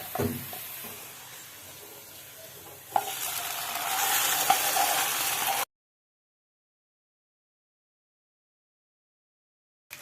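Sizzling fried garlic and onion being poured onto kishk stew: low background, then a sudden rise into a loud, steady hissing sizzle lasting a few seconds before abrupt silence.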